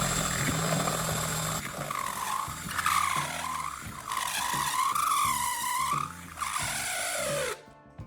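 A drill bores a hole through the center of an aluminum Coke can's bottom, whining loudly in bursts with rising and falling pitch and brief pauses between pushes before the motor cuts off.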